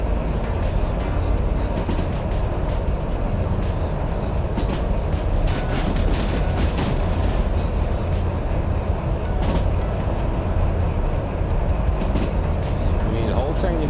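A train in the Derail Valley video game rolls steadily along the rails, giving a continuous loud rumble with faint clicks and squeals throughout and a voice talking over it.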